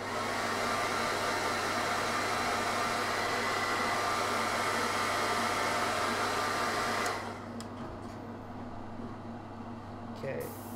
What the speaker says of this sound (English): by just running the hairdryer over it